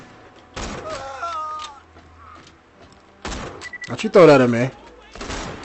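Enemies fire at the player in the video game Borderlands 2, with short bursts of gunfire mixed with in-game character voices speaking.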